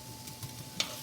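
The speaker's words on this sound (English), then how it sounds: "Got the sizzle going." Ingredients sizzle softly and steadily in a hot pan, a faint continuous hiss with one small click near the end and no talking.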